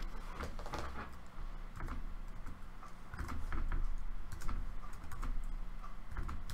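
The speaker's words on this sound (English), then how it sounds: "let's type it in here." Rapid, irregular clicking of keys on a computer keyboard, fairly close, typing steadily with brief pauses and no voices.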